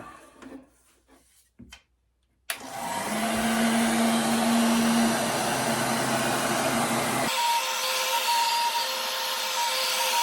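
Heat gun or hot-air blower warms a brand-new small bicycle tire, a loud steady whooshing roar that starts suddenly after a few quiet clicks and handling sounds, then shifts to a different pitch partway through.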